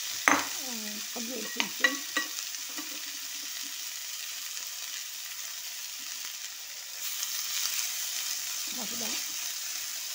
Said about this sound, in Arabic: هنا نخلي الفلفل يتقلى